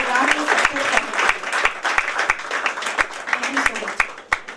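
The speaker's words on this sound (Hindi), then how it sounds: "हमारे साथ में एक बार जोरदार तालियां आप बजाइए" An audience at a women's award function in Chhindwara applauds in scattered, uneven claps, with sharp individual hand claps standing out over a host's voice talking throughout.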